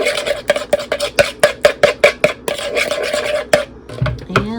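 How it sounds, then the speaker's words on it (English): Salt and seasonings being mixed together in a bowl, a rapid series of close rasping scrapes and taps of a utensil against the bowl, ending with a few softer knocks. "Just gonna mix this together."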